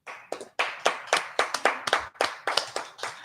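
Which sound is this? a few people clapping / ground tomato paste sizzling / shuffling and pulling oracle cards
a few people clapping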